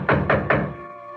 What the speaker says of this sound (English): I heard this rapping at the door.